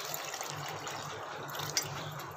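Water is poured into a jug while making fresh cucumber juice, a steady close splashing flow with a brief louder gush near the end, no speech.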